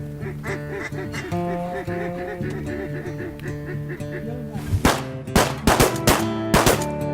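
Shotguns fired during waterfowl hunting at a lodge in Stuttgart, Arkansas, a quick cluster of sharp, loud blasts near the end, preceded by steady duck calls and quacking, with people talking.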